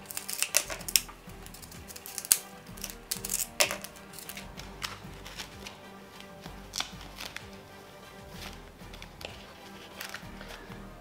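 Pool noodle foam being cut for a Halloween candle decoration, with a run of crisp snipping and slicing scrapes, some louder sharp strokes early on and softer cuts after, close up against a low background hum.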